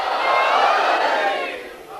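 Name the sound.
majlis audience chanting religious slogans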